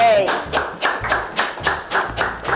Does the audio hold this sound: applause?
yes